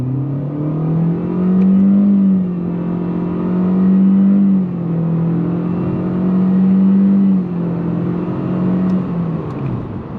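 A 2021 Chevrolet Spark's engine hums and revs as it accelerates from 0 to 60, pitch rising and dropping through gear changes, steady and fairly close, with no talking.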